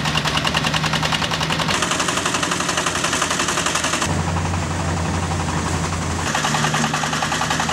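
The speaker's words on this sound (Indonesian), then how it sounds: "Untuk merontokkan butir-butir padi dapat dilakukan secara manual menggunakan papan perontok atau menggunakan mesin perontok padi." A rice threshing machine at a farm in Kulon Progo runs steadily and loudly, with a rapid, rattling engine knock and a dense mechanical clatter that shifts in tone partway through.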